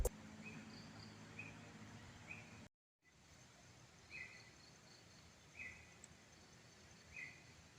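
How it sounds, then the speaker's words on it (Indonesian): Birds chirp in a forest on a calm morning before rain, a few short, faint chirps repeating every second or so over steady background hiss, with no talking. "ada kicauan burung."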